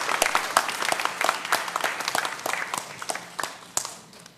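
A church congregation breaks into warm applause, many hands clapping densely and loudly throughout, with a few voices faintly mixed in.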